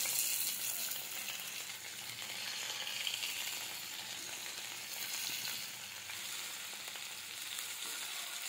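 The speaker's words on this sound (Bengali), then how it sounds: "শাসলিকগুলো ভাজা হয়ে গেছে" Shashlik skewers frying in oil in a wok over a low flame, giving a steady, close sizzle and crackle throughout with no talking.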